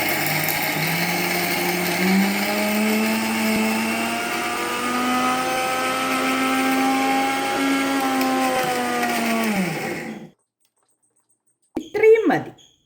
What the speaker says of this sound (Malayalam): ഈ തേങ്ങയും കുരുമുളകും ജീരകവും കൂടെ ഒന്ന് അരച്ചെടുക്കാം